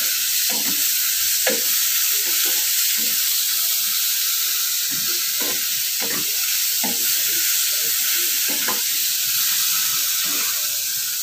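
Sliced bitter gourd (ampalaya) fries in a pan with a constant loud sizzling hiss, broken by repeated scraping and knocking as a utensil stirs it, close up and with no one speaking.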